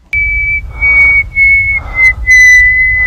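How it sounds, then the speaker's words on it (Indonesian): A man whistles a steady, sustained tune in a tense film scene, one long clear held note with a brief break, over a low rumbling background. "terus tiba-tiba siulan"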